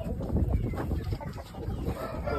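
Gamebird chickens clucking in a pen, a dense overlapping chorus of short low clucks close by, with a faint voice underneath.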